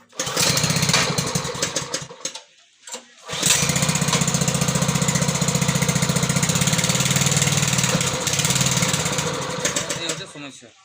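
A WPK 30 water pump engine, fuelled with kerofsene and petrol, fires up and runs loudly, then cuts out briefly and catches again before fading, the running stretch a steady close buzzing drone with a voice speaking underneath.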